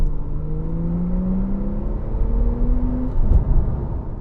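A Porsche 991 Turbo S sports car accelerates hard, its engine note climbing steadily through a gear with a brief thump near the end, heard clearly and fairly close with no talk.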